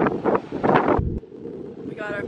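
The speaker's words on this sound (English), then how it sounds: "It's pretty windy out here" Strong wind on a beach buffets the microphone in loud, gusty rumbles, dropping off abruptly partway through, with a voice speaking under it at the start.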